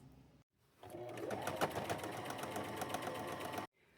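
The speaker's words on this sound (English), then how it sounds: "I'm fixing to run a stitch all the way around through there" A sewing machine stitches a shirt to pants in one continuous run lasting about three seconds, close and steady. Brief silence comes before and after it.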